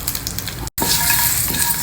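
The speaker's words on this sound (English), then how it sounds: "Stir all these together till the nuts and dals are well roasted." Groundnuts, urad dal, curry leaves and green chilli roast in a hot pan, making a loud, steady close sizzle and crackle that breaks off for a moment and then resumes, with no voice.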